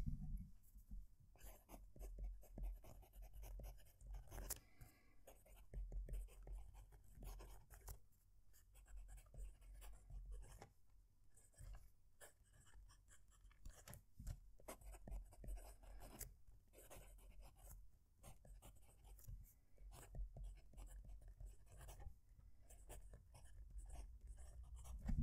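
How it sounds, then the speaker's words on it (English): A Moonman M600S fountain pen writes on paper close to the microphone, producing faint, continuous nib scratches and strokes with short pauses over a long stretch, no voices. "I'm going to move the mic as close as I can to the paper so you can actually hear the pen's writing"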